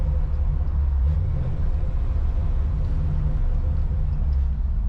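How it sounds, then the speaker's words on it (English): Ford F100 truck engine cruising at low RPM in fourth gear, a steady, loud low rumble that holds evenly throughout with no speech. "Even cruising around at no RPM in 4th gear right now, you give it some throttle and it does exactly what it needs to do."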